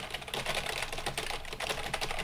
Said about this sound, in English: Now I'm going to type on a keyboard to see how much it rejects while I'm talking